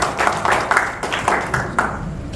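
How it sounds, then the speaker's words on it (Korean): An audience in a cultural centre hall gives steady applause after a humanities lecture, a dense patter of many hands clapping at close range. "큰 박수, 감사의 박수 부탁드리겠습니다"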